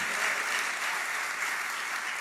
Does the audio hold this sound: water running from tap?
no